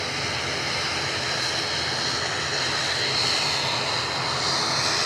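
Airliner departing Edinburgh Airport for Marseille, a loud, sustained jet engine roar filling the whole stretch with no talking over it.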